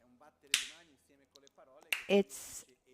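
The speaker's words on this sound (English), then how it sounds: "there's the clapping of the hand, and we're eliminating interferences" Sharp ritual hand claps at a Tibetan Buddhist teaching on the Heart Sutra: a few crisp, close slaps stand out, with a voice heard between them.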